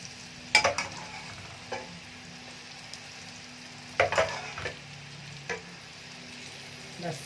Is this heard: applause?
no